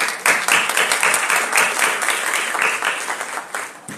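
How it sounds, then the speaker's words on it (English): Audience applause fills the hall at a concluding ceremony of an elocution contest series after a performance, a dense burst of clapping lasting a few seconds, loud and close. "this performance deserves a better applaud."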